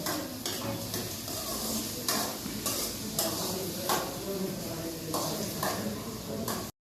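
Onions and potatoes fry in oil with a steady sizzle, broken by regular scraping strokes of a spoon stirring through the pan; a voice talks faintly now and then underneath.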